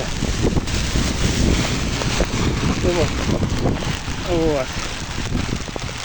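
Heavy rain pours down in a constant roaring hiss, gusty and close, with a voice briefly heard through it, during flooding of cellars on a town street.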